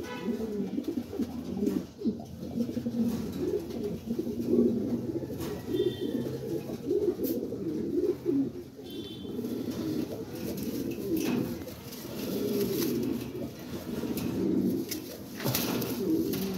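Red Lahori pigeons, a running male among them, cooing in repeated throaty, rolling bursts close by, nearly continuous over a steady background of other birds with faint chirps.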